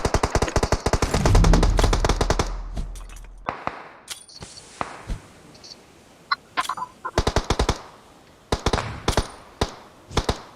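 Bursts of automatic gunfire from the PUBG Mobile battle game, rapid close volleys alternating with sharper isolated shots and short pauses, loud and sustained early then scattered repeated bursts, no talk.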